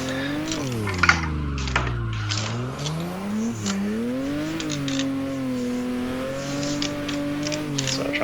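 Car engine revving hard toward the red line, pitch climbing and then holding steady near the top with rising and falling sweeps, loud and continuous, with faint tire or whir noise underneath.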